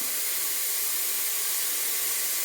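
Sliced onions sauté in a little oil in a pan for chicken biryani, a steady, even hiss of sizzling, close and constant.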